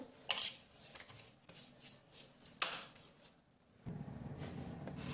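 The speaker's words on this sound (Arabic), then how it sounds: "وهبدأ اقلبه كويس مع بعضه" A spoon stirs a pickling mixture with a spoonful of sugar in a bowl for pickled onions, giving a run of light scraping and clinking strokes with brief pauses between them.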